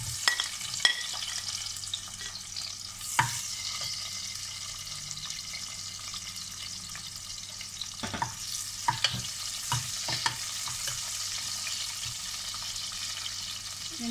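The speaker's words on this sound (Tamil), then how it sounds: "வெங்காயம் கொஞ்சம் வதங்கட்டும்." Onions sautéing in oil and ghee for mint pulao, a soft, steady sizzle beneath occasional stirring clicks and scrapes, fairly quiet and with no one talking.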